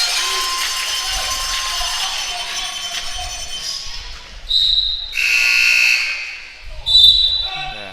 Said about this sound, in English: Pretty loud buzzer there.